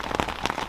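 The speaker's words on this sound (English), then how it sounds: "It's pouring down rain in the midst of this" Heavy rain pours down outdoors during a hurricane, a close, rough patter with uneven bursts of drops hitting nearby surfaces.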